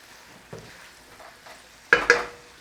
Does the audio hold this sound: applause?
no